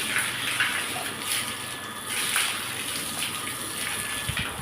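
Steady running water gushes and splashes across a cattle shed floor during washing, a constant broad hiss lasting throughout with slight swells, close and fairly loud, no talking.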